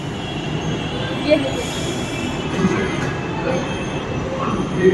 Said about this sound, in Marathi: आमची ट्रेन आली आहे